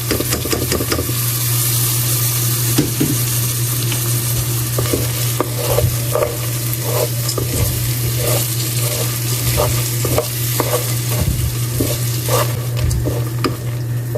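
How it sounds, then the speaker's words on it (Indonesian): Washed lentils sizzle and fry in a hot pan for a potato soup, with a steady frying hiss broken by a regular series of stirring scrapes and clicks close by, and no voices. "Lalu masukkan ades yang sudah dicuci bersih."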